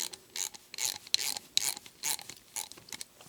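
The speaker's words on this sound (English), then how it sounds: "Grab my snap-on 1/2-inch wrench and my snap-on ratchet and back this thing out." A Snap-on ratchet backs out a bolt with quick bursts of sharp metallic clicking, several short runs of pawl ticks in an uneven rhythm, close and crisp.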